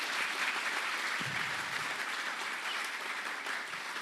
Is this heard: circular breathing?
no